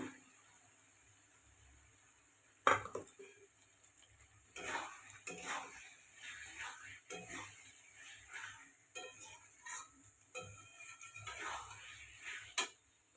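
Potatoes drop into a pan of cooked-down ghugni masala with a sudden clatter, followed by repeated scraping stir strokes and a faint sizzle, spaced irregularly and fairly quiet.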